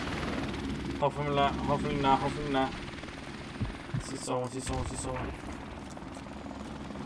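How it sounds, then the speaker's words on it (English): A helicopter in the video game Call of Duty Remastered thrums steadily in the background while a player talks over it. A few sharp bursts like gunfire break in midway. "So I'm here camping with a fucking helicopter that's gonna fuck me up."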